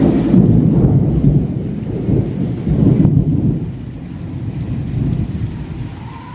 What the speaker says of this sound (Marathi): अर्धा तास झालं पाऊस पडत आहे.